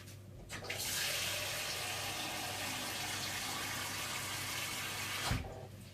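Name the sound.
water pouring into a large pan for pozole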